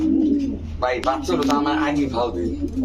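A large pigeon coos nearby at a pigeon market, with deep, repeated throaty calls heard under people talking.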